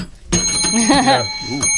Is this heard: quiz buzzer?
yes